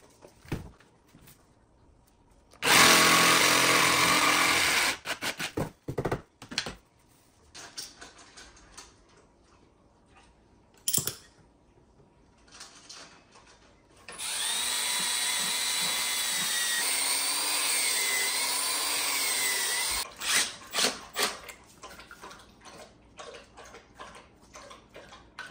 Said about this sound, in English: I put a screw from the side, just drilled a little hole in the cart